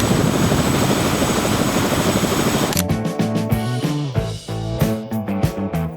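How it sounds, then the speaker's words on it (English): An A-Star helicopter with doors off runs its engine and rotor in a steady loud roar, then turns into a rhythmic chopping thump with clicks on top. "An A-star helicopter."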